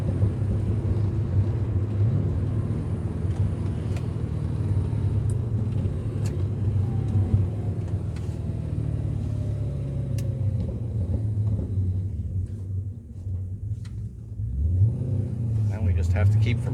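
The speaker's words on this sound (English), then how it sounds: "It's a crazy car. It feels great to drive." A Porsche 944 with an LS engine swap drives with a steady, deep engine drone and rumble under road noise, rising slightly near the end, heard from inside the car.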